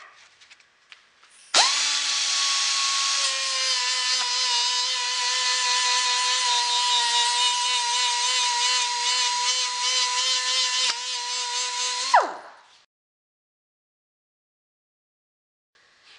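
Die grinder with 1,000-grit sandpaper polishing an axe head, a loud, close, steady high whine that runs about ten seconds before spinning down to silence.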